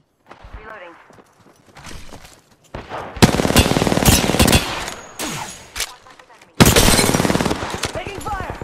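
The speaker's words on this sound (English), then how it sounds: "Taking fire." Automatic weapon fire in the Apex Legends video game comes in two loud, sustained rapid-fire bursts, with quieter in-game voice lines and movement sounds between them.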